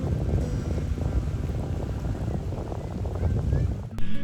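Breezy wind at a riverside park on the Mississippi in La Crosse, Wisconsin, rumbles and buffets the microphone in continuous low gusts with soft rustling, steady throughout.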